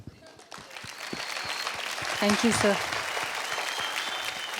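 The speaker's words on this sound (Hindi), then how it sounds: "स्वर्ग से मर्त के इस स्वर्ग पर आपका आगमन हम तालियों से करते हैं" A studio audience claps steadily to welcome a dancer onto the stage of a televised dance competition, the applause building and holding throughout while a voice speaks briefly over it.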